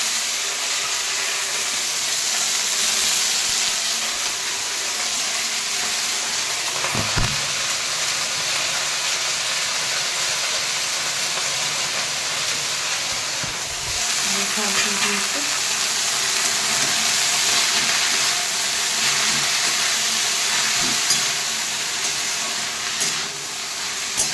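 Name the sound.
spinach greens frying in a pan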